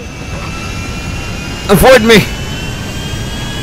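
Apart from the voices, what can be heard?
jet plane engines in a Grand Theft Auto video game mod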